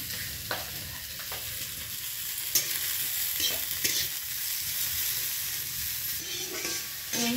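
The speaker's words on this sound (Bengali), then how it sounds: "এবারে নাড়তে হবে।" Sour okra chutney stirred in a pan over a continuous frying sizzle, with intermittent spatula scrapes and knocks against the metal at irregular intervals, close and fairly loud, no voices.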